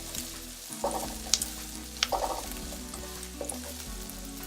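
Ginger, garlic and asafoetida powder sizzle steadily in hot oil in a pan for South Indian tomato rice, with a few stirring scrapes and clinks breaking through the close, continuous frying.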